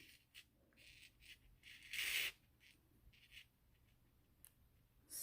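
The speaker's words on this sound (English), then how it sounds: "let's cut off the chain" Scissors cutting off a crochet chain on a Barbie holiday dress: one crisp snip stands out in the middle, with a few lighter clicks and ticks around it in a quiet room.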